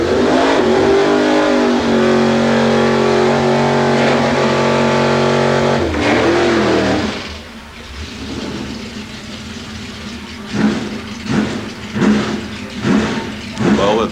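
A drag racing car at a 1994 Santa Pod season opener accelerates at full throttle with push-button gear shifts, a loud sustained engine roar that drops away, followed by a series of rising bursts as the engine pulls again.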